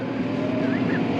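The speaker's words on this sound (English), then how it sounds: "There goes Barry on my tractor" A tractor pulling a grain cart on a farm drives past, its engine a steady close rumble throughout a short moment, with no talk.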